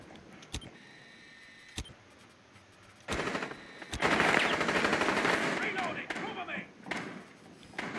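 Gunfire aimed at a mirror window in Rainbow Six Siege, sharp single shots followed by a loud sustained burst of automatic fire with breaking debris, while people talk throughout.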